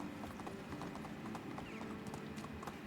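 Rhythmic clip-clop of horse hooves trotting at a steady pace in the video game Medieval Dynasty, fairly close, over a constant low background hum.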